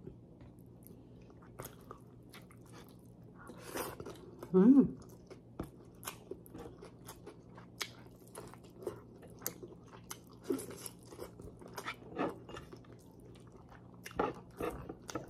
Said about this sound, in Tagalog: Sarap humigop ng sabaw na mainit.